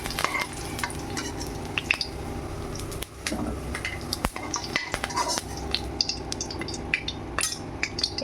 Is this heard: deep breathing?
no